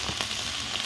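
Chopped tomato frying in a pan, a brief steady hiss of sizzling with no other sound.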